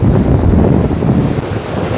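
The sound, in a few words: sea waves breaking at Bakkhali beach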